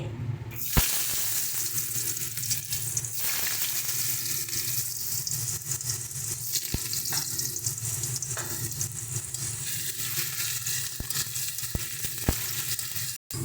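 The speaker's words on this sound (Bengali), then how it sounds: "চলো, এবার আমরা আলুটা ভেজে নিচ্ছি।" Potatoes fry in a pan with a continuous, moderately quiet sizzle and bubbling, punctuated by occasional sharp clicks and knocks from stirring, sustained for over ten seconds.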